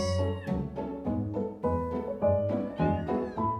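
Several cats meow in quick succession, loud and close, their plaintive cries overlapping with no talking.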